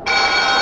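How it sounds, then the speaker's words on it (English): A telephone ringing during a live call-in show, a loud, sustained electronic ring tone that starts abruptly and holds steady, close by, with no talking over it. "alright, another phone call"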